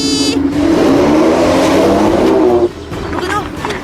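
A video game car engine revs and drives in a loud sustained roar that cuts off abruptly partway, followed by lighter engine and game sounds with people talking over it.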